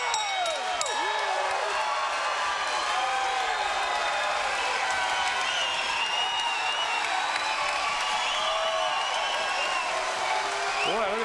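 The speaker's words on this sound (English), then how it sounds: "look at the crowd getting on Ramos, who's on the ropes, declaring victory" A boxing arena crowd roars and cheers steadily, a dense, loud wash of voices and applause with scattered whoops, sustained throughout without a break.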